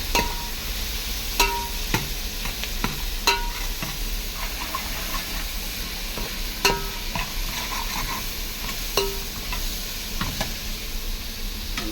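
Sardines sautéing in a pan make a constant sizzle, broken by sharp clinks and scrapes of a spatula every second or two. The sound is close and clear, with no talking.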